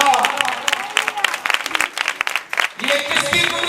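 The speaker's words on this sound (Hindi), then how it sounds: "खुदा उनकी कुदरत के लिए ताली बजाएं।" A church congregation at a Pentecost service breaks into lively applause, dense clapping mixed with crowd voices and cheering, close and loud throughout.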